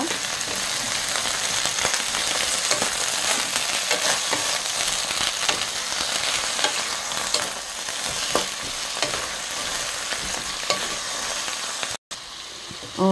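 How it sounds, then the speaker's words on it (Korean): Lotus root sizzles steadily in hot oil in a pan as it is stirred and coated, a dense continuous crackle with small scraping accents, close and fairly loud, with a brief break near the end. "기름에 먼저 연근을 이렇게 코팅을 시켜주면요"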